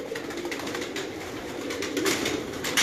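A racing pigeon bred by Ustad Aashiq Hussain of Sialkot coos softly among other birds, a low steady murmur with faint chirps, no voices.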